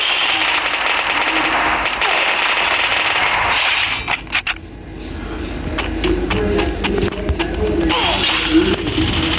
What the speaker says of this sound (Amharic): አይ የሚገርም ሽጉጥ ነው።